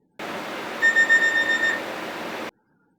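A cockpit door buzzer aboard a Germanwings airliner sounds once, a steady electronic tone lasting about two seconds with a short pulsing stretch near its start, heard close and alone over flat cabin noise.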